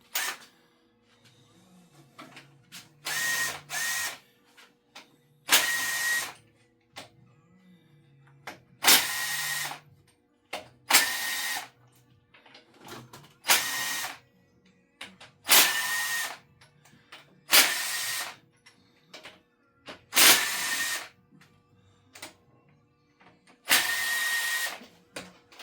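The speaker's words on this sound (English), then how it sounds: "I'm gonna start with my snap-on impact gun and remove the ARP bolts off the cylinder heads." A Snap-on impact gun removes ARP head bolts from the Edelbrock cylinder heads of a 496 race car engine. It fires about ten loud, rattling bursts of a few seconds each, separated by quiet pauses.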